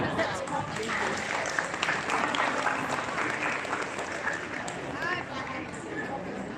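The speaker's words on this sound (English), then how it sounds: "A round of applause" Sustained applause from the audience at a Philippine National Day Ball in Australia, steady and fairly loud for several seconds, with crowd voices and cheers mixed in.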